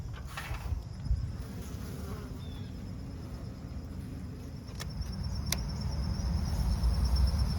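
Honey bees swarm over beehive comb built from discarded wax cappings, a dense, steady buzz of many insects close by that swells slightly toward the end, with no voices.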